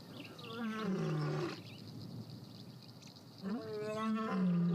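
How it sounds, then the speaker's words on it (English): Male lion roars twice in the wild, two deep, resonant bursts separated by a short pause, with insects buzzing faintly in the background. "He's responding, sending out a powerful roar."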